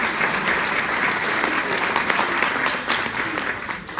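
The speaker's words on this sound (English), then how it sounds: "Let's give a round of applause for joining us today." At a mayoral candidate forum, an audience gives a round of applause for the candidates: continuous mixed clapping from a roomful of people, fairly loud and sustained from start to finish.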